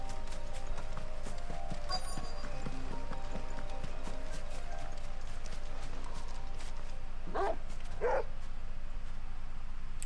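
A big dog companion in Final Fantasy XVI lets out two quick barks late in the clip, over constant low game ambience and clattering footstep-like sounds.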